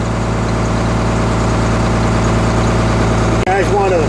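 A VW Touareg engine running steadily at raised high idle, a loud continuous even drone with one brief dropout near the end, followed by a short tonal squeal.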